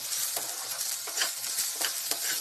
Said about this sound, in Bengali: ভালো করে ভেজে নিচ্ছে একটু লবণ দিয়েছে লবণ দিয়ে একটু নাড়াচড়া করে নিচ্ছে